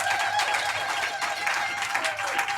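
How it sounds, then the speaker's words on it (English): Steady applause from a crowd, dense and continuous clapping at moderate distance, holding level for a few seconds. "Can we give them a round of applause, please?"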